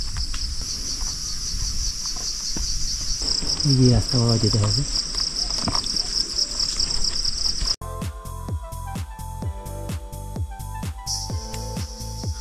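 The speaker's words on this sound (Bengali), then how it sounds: "ঝিঝি পোকার মতো কি পাখি পোকার ডাক।" Cricket-like insects on a forest trail in Nepal trill in a shrill, continuous drone, and a person speaks briefly partway through. Near the end the scene shifts to a sparser stretch of clicking sounds.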